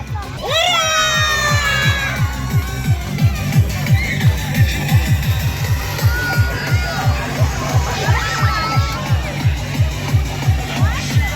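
A crowd of children shouting hooray together during a family outing at a fundraising event, loud and excited, over a steady rhythmic thumping beat and general crowd noise.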